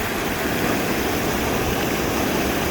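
A steady, loud rush of falling water pours at Foster Falls, a broad unbroken roar of spray and churn heard close up with no pauses.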